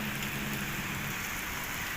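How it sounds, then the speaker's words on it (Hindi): Heavy rain pours steadily in a dense, even hiss with no breaks, loud and close throughout a brief stretch. "बहुत ज़्यादा बारिश अभी भी बहुत हो रही है।"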